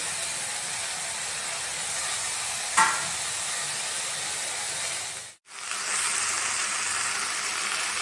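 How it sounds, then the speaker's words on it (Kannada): Greens and chopped tomato frying in a pan, a steady broadband sizzle running almost the whole time, with one brief stir-like clatter and a short drop to near silence partway through. "ಇವಾಗ ಸೊಪ್ಪು ಮತ್ತು ಟೊಮೊಟೊ ಹಾಕ್ತೀನಿ. ಇದು ಚೆನ್ನಾಗಿ ಫ್ರೈ ಆಗಲಿ ಸ್ವಲ್ಪ ಹೊತ್ತು"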